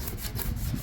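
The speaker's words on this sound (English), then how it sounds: "I grabbed a scraper real quick just because I wanted to see" A hand scraper rasps body filler off a metal panel on a 1959 GMC truck during rust repair, a steady close scratching with uneven strokes and no voices.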